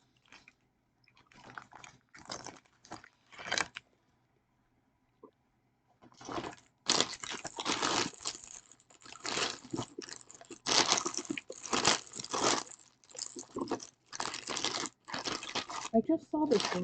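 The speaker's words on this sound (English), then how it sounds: "It takes a while to chew through it." Someone chews a crunchy snack from France close to the mic, giving bursts of crackly crunching and wrapper-like crinkling, broken by a quiet pause and then a long, loud run of dense munching.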